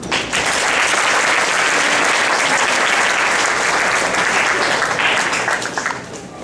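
Audience applause welcoming Uncle Jaga on stage, a loud, dense, steady clapping from a sizable crowd that holds for several seconds before easing slightly at the end.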